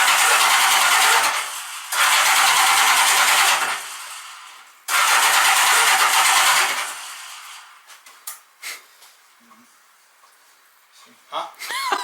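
A Honda Goldwing motorcycle engine cranks loudly in two long whirring starter bursts, then a third after a short pause, before fading into quieter clunks and rattles; people speak briefly nearby.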